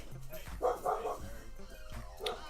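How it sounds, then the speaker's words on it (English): A dog barks and yips a few times in the background of a live online hangout, with short bursts partly masked by people talking over it. "Oh, we got a doggy."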